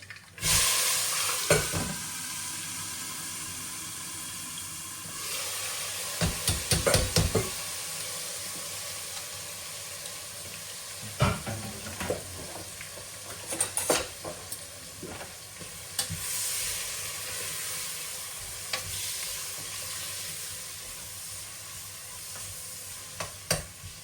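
Turmeric, peas and papdi beans sizzle steadily in hot oil, a close, continuous frying hiss broken by occasional stirring scrapes and clinks of a pan.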